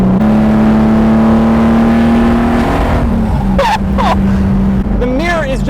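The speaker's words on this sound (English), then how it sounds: "This is one of the better sounding cars I've heard." A Lamborghini Jarama's engine revs while driving, a loud, close, sustained drone that holds steady and then dips as the car moves, with people's voices heard over the engine near the end.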